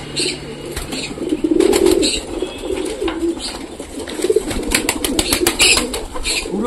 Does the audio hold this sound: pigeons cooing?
yes